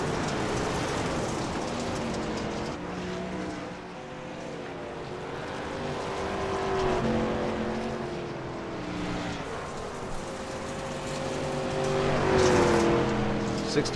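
Racing trucks in a video game Great Lakes Truck Series race, engines droning steadily on track with shifting pitch, under race commentary.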